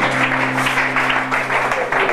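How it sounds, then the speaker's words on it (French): A large crowd clapping at a church ordination service with a steady, dense patter, over a sustained low musical hum in the background. "Applaudissez le Seigneur Jésus"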